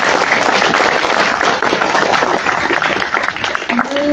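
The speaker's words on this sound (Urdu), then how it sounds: "ایک دفعہ پھر تالیاں بجائیں" Loud, dense applause from a rally crowd, with many hands clapping at once for several seconds, staying strong before thinning slightly at the end as a faint voice rises beneath it.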